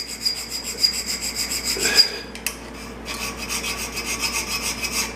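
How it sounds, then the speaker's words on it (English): A hand file rasps back and forth across a metal bushing plate clamped in a vise, steady repeated strokes close by and loud, with a short pause partway through before the rhythmic filing resumes. "I'm going to do a little file real quick"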